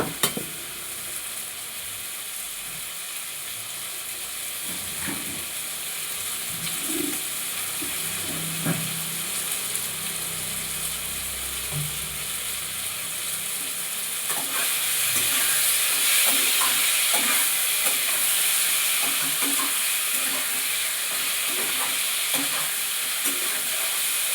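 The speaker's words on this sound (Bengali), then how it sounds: "কষিয়ে নিচ্ছি ঝিঙে পটল আলুটাকে" Ridge gourd, pointed gourd and potato are sautéed with spices in a kadai, giving a steady close sizzle that grows louder partway through, with occasional soft stirring scrapes and no talking.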